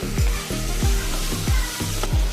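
Chicken pilaf ingredients sizzle and fry steadily in a pan, with a loud, continuous crackle and a stirring scrape repeating roughly every third of a second.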